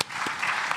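A conference crowd at a closing ceremony applauds, a dense wash of clapping that holds steady for a brief moment.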